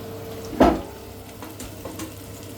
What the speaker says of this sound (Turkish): Şimdi arkadaşlar pastırmamı da koyuyorum. Annem karıştırıyor.